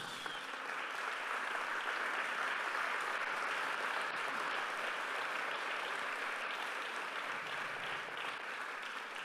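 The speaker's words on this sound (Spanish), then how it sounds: "Denle un aplauso a Jesús." A church congregation at a Sunday sermon gives sustained, even applause, a dense wash of clapping heard from a distance at moderate volume throughout.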